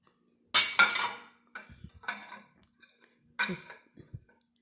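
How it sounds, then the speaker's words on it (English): A dinner plate is set onto a charger for a table setting, giving a few short ceramic clinks and knocks between stretches of a person talking nearby. "I'm starting here with the basic charger. And I'm adding, of course, my plate here."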